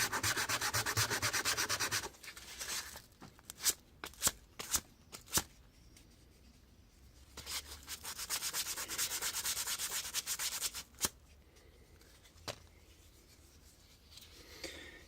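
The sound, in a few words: hand sanding knife handle with 150 grit sandpaper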